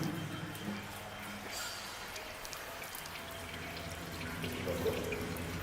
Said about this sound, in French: Là, il y a un petit ruisseau qui coule.